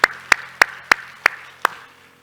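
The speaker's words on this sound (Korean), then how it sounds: "우리 하나님께 영광의 박수합시다." A church congregation claps together in praise, six sharp, evenly spaced claps about a third of a second apart, close and distinct with no talk over them.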